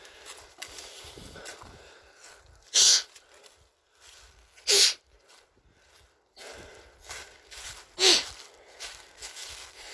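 Three sharp, forceful nasal blasts spaced several seconds apart, each a short hissing snort, with quieter shuffling and breathing in between.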